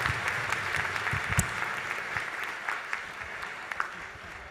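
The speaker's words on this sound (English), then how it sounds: "Can we give a round of applause" Applause from a crowd at a university commencement ceremony, with steady clapping that holds from start to finish and fades slightly toward the end.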